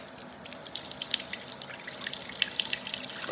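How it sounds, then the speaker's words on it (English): Water pours from a cracked fresh coconut in a steady, close trickle with small splashy drips, continuous and fairly quiet throughout. "There's a lot of water in this one."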